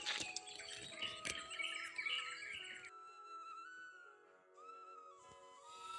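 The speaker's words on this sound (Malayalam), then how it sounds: "ഞാൻ പറിച്ചെടുക്കാൻ തുടങ്ങുമ്പോൾ തന്നെ അവിടുന്ന് ഒച്ചപ്പാടാക്കുന്നുണ്ട്" Several birds chirp and whistle close by in overlapping bright calls. Some rustling comes at first, then clearer tweets continue.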